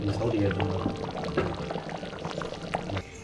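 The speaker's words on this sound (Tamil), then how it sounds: "புளி தண்ணி சேர்த்து ஒரு கொதி வந்ததையும்" Tamarind water poured into a simmering peanut and broad bean curry, a soft steady liquid splash with faint bubbling, close and moderately quiet, a few brief clinks over a low kitchen hum.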